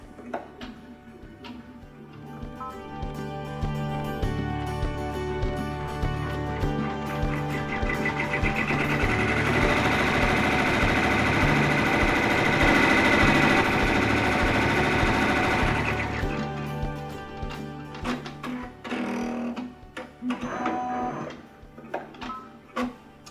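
A sewing machine stitches quilted batting onto an appliqué letter, running in a steady, continuous whir for about ten seconds before slowing to a stop, with clicking handling noises around it.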